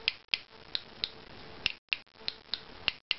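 Sharp, light taps on a wooden instrument plate being tuned toward a 176 Hz tap tone ring out one at a time at an irregular pace, each with a brief bright tone, close and fairly quiet.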